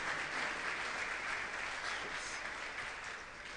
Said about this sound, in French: Est-ce qu'on peut acclamer pour Anne?